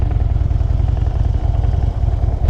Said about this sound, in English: Downshift into first from second, or just downshifting in general, and bring that clutch out to the friction zone.